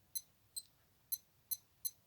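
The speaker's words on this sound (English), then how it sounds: "it now makes the beeping noise" Five short, high-pitched electronic beeps from a repaired Casio G-Shock watch, module 2463, sound at uneven intervals, quiet and close, with near silence in between.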